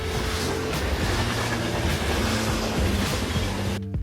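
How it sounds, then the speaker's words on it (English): A New York City subway train rumbles loudly and steadily with a rattling clatter of the cars, heard from close by and continuing without a break until a sudden cut at the very end. "After that, we took the subway to DUMBO in Brooklyn to go to the Time Out Market."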